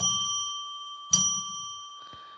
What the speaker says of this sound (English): let's ring a bell 3 times to declare sacred space